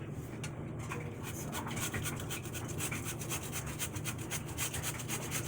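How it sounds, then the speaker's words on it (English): Potatoes grated by hand on the large holes of a box grater, a steady, continuous rasping scrape with rapid repeated strokes, close and moderately loud, with no talking. "I'm going to take a box grater, and I'm going to grate them on the larger size holes."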